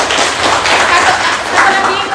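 A classroom group in a university teacher-training session claps together, a dense, close burst of hands with voices mixed in.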